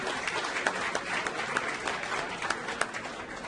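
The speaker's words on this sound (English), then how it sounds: "Let's hear a round of applause for him hosting this event" Sustained applause from a crowd at a Golden Gloves boxing finals event held at a golf course, steady clapping throughout for the event host.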